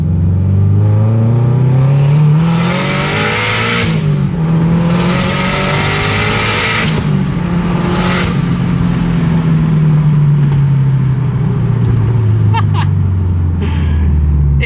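A BRZ-chassis drift car pulls hard out of first gear, its engine loudly revving up through rising pitch, dropping briefly at shifts, then climbing again before easing off, heard from inside the car.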